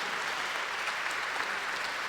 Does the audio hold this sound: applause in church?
yes